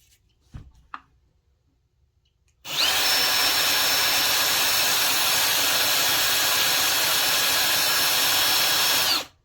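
A power drill spins a Speedmaster billet distributor on a Mopar budget build at full speed, a loud steady whine with a high tone running unbroken for about seven seconds after a few faint knocks.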